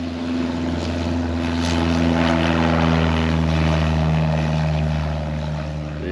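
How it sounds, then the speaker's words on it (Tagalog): Propeller airplane taking off from Palanan airport in Isabela, its steady droning engine tone loud and close throughout, rising slightly in the middle with no talk over it. "Yun, at pa-take off na sila."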